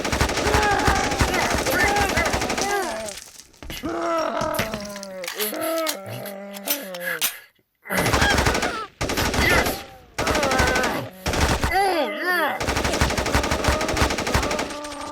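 Sustained automatic gunfire sound effect in a vampire-themed radio play, loud, rapid bursts that pause briefly and resume, with a brief lull near the middle before more firing.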